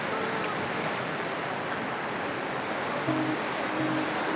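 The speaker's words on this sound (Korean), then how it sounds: "바다와 가까워서 파도 철썩철썩 거리는 소리까지 다 들려요." Waves break along the East Sea shore near a seaside observation deck, a steady, dense wash of surf filling the whole stretch with no voices.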